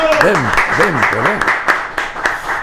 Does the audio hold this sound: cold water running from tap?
no